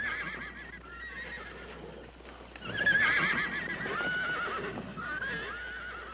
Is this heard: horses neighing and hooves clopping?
yes